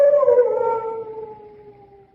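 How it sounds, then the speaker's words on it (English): Large dogs howling in long, drawn-out wails at a French chateau, loud and fairly close at first, then sliding lower and fading over a couple of seconds, with no talk. "What was that? Only the dogs, monsieur."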